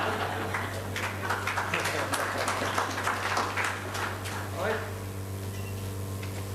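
Audience clapping for the panel members at the end of a panel discussion at the WCNGT 2014 conference; a burst of crisp claps fades out after a few seconds while a voice talks over it.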